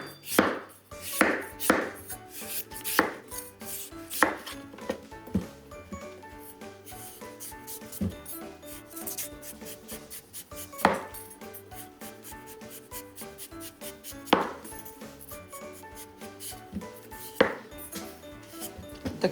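A knife cuts a peeled, seeded winter melon into chunks on a cutting board for chicken and winter melon oden, with steady, close, crisp chopping taps and a few louder thuds over a soft background.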